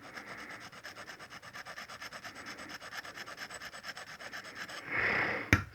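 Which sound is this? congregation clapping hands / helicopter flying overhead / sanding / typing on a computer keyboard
sanding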